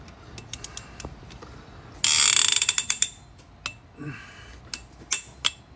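A hand ratchet clicks in a quick burst while tightening a cylinder head bolt during head reassembly on a Kia Soul 2.0 engine, followed by a few scattered metallic taps and clinks close by.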